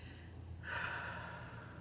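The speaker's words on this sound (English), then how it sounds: "So you take it in through your nose and out through your mouth" One deep breath drawn in through the nose and let out through the mouth, a quiet, close airy inhale that swells into a breathy exhale, heard alone.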